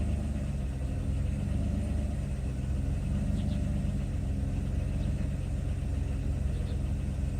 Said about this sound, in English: It's a cold start. It hasn't been started today.